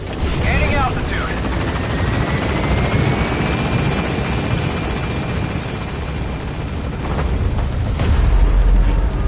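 The Pequod helicopter in Metal Gear Solid 5 gains altitude with a loud, continuous rotor roar and bursts of low rumble; a radio voice talks over it.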